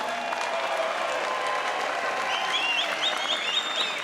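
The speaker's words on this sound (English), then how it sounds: "So round of applause for both fighters, come on." Crowd applause and cheering at a BAMMA mixed martial arts event after a main event bout, sustained arena clapping with shouts and whistles rising out of the noise.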